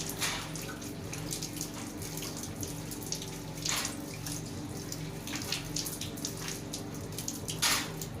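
Tap water runs steadily during wudhu ablution, a soft, continuous splashing and trickling that stays fairly quiet throughout with no one talking.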